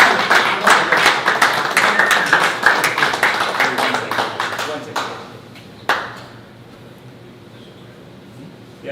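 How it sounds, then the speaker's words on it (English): Audience applause at the final of the US Snooker National Championship, a burst of brisk, closely spaced claps for the hosts that thins out and stops midway, leaving a lone late clap and quiet room tone. "A big round of applause."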